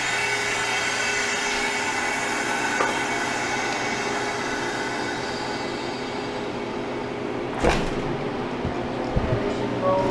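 Freeze dryer drain valve opened, releasing a steady, even rush of air that holds for most of the clip, with a brief louder burst near the end.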